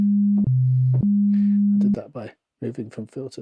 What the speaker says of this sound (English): how about we'll just listen to the sine wave and nothing, the oscillator and nothing else